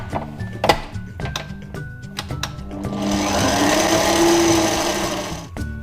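Mascarpone cream for an Oreo tiramisu being mixed with an electric mixer, a loud steady motor whir rising into a smoother drone after some clunks and clicks, close by.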